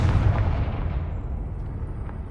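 A Confringo spell blast in Hogwarts Legacy lands as a heavy, booming explosion, loudest at the start and then trailing off into a long, rumbling decay.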